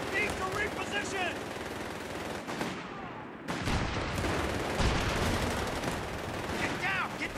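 Rapid machine-gun bursts and gunshots crackle through a Company of Heroes 3 battle at Monte Cassino, Italy, loud and dense with brief pauses, mixed with shouted soldier voices.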